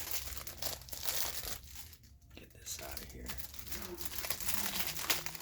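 A new oil filter gasket is pulled from a plastic bag, giving a few seconds of close crinkling and rustling plastic, with brief pauses between handling sounds.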